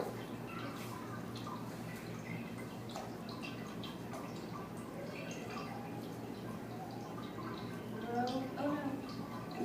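Dry ice bubbles and gurgles continuously in water at low volume with small drips and pops, with faint voices murmuring in the background.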